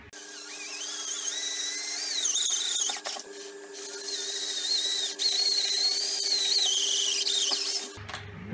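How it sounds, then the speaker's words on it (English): A high-pitched power drill fitted with an 8mm bit whines steadily for several seconds while drilling a hole, its pitch wavering slightly, then cuts off near the end. "So I'm gonna start by drilling that hole actually. So I'm taking an 8mm drill bit."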